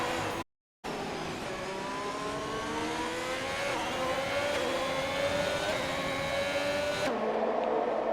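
Race car engine in a racing video game at the Mexico Grand Prix, screaming steadily after a spin with rising pitch and a sustained loud drone, briefly cut out near the start.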